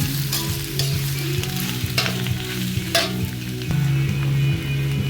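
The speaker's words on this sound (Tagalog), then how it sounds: "Halo-haloin natin mga minamahal." Bamboo shoots for a Filipino ginataang dish fry in a pan while being stirred, giving a steady close sizzle broken by repeated scraping stir strokes, with no talking.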